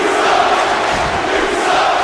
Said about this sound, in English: Crowd not very appreciative of this at all.